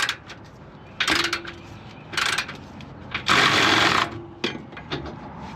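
An impact wrench works on a steering stabilizer bolt of a Ford F250 in a few short bursts, with one longer hammering run near the middle, close up and moderately loud, with no talking.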